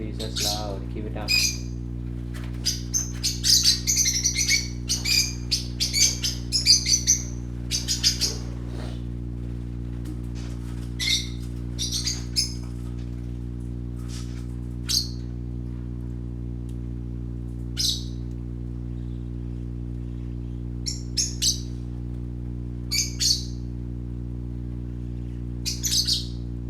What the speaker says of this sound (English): Birdies, that's loud. Keep it down.